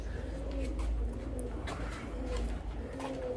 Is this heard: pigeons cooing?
yes